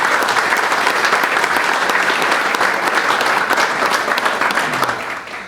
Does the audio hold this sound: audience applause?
yes